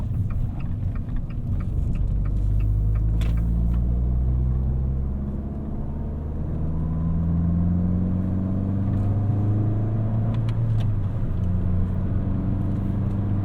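A 2018 Fiat 500 Pop on a test drive, its small engine rising and falling in pitch as revs are matched between gears, heard loud and close from inside the cabin with a low rumble throughout.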